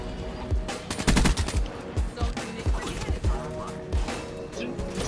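A sentry gun in Black Ops 3 lets off rapid bursts of automatic fire, loud and close, with sharp repeated shots clustered in volleys under other game action and no talk over them.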